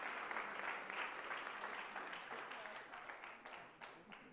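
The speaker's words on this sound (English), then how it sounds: "Let's give them a round of applause." An audience applauds steadily and evenly at a live event, the clapping dense and continuous throughout and easing off slightly toward the end.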